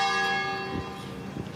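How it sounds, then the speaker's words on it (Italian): Church bells ring at midday beside a church in Noale, Italy, a steady layered peal of sustained tones with a couple of heavier strikes standing out, loud and near, with no voices. "sentirete anche le campane perché siamo a ridosso di una chiesa"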